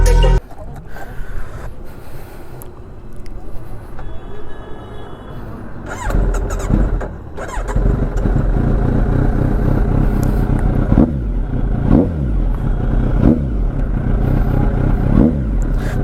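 A newly delivered motorcycle engine revs loudly and close, in repeated throttle surges short of full throttle, rising and falling over a constant rumble.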